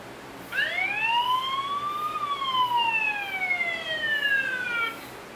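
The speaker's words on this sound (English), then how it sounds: "It also have a siren that sounds like this." A loud electronic siren from a Zosi outdoor PTZ security camera rises and then slowly falls in pitch, a single sweeping wail lasting a few seconds, clear and alone.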